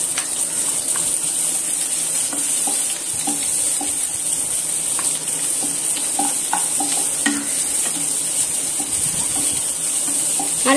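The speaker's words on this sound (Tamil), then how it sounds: "நல்லா பொன்னிறமா வதக்குங்க." Onions sizzle and fry in a hot pan with curry leaves, with frequent scraping and stirring clinks of a spoon against the metal throughout, steady and close, with no talking.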